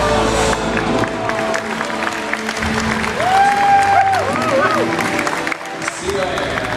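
Crowd at a Fear Factor Live show applauding and cheering, a dense continuous wash of clapping with shouts and whoops rising through it, with a voice over a speaker system audible too.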